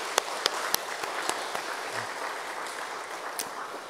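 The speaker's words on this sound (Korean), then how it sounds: "다시 한번 큰 박수로 격려하겠습니다" A church congregation applauds the choir after a Sunday service anthem, with a steady wash of clapping and a few sharper, distinct claps standing out at a moderate distance.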